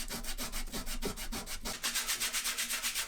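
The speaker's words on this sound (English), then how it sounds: "and then I did some light sanding." Light hand sanding of wooden dining chair joints with sandpaper, rhythmic back-and-forth rubbing strokes, close and fairly loud, quickening in the second half.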